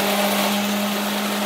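An electric blender whirs steadily as it grinds a spice paste of garlic, shallots, six candlenuts, three red chilies, dried shrimp and peppercorns, giving a continuous close motor drone with no talk.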